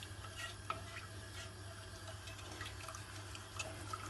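A spoon stirring sugar into water in a cup, a faint, steady swirling with light clinks against the cup, with no talking.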